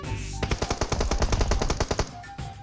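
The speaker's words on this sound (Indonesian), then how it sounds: "Kok lu nembakin kami sih, Bang?" Automatic gunfire in the mobile battle royale game PUBG Mobile, a loud close burst of about a dozen rapid shots in quick rhythm, alone without talk.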